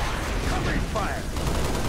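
Covering gunfire in Halo Reach: a steady wash of distant automatic weapons fire at low level, continuous and muffled, with faint voice chatter over it.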